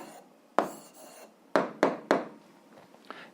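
A pen or chalk writes out a math answer in a few short bursts of scratchy strokes, with separated sharp taps and scrapes and pauses between them, close and fairly clear.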